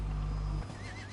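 A horse in a video game lets out a loud, close whinny as it is mounted, followed by a wavering neigh tail and light hoof clops.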